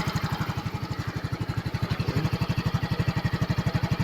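Motorcycle engine running after being submerged in a flood, idling while the carburetor warms up; a close, steady rhythmic chugging with even pulses throughout, no voices.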